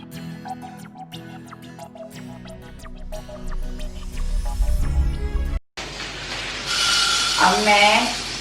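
Water poured over urad dal to soak it, first a run of drips and clinks, then a loud close gush of liquid filling a vessel, with someone talking.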